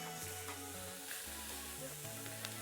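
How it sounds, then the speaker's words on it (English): Red claw crayfish fry in a pan with chilli and garlic, giving a steady close sizzle and crackle alone, with a faint rhythmic low tone running underneath. "So let them sizzle away nicely."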